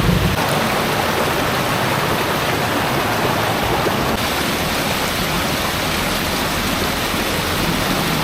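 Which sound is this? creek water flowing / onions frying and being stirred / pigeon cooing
creek water flowing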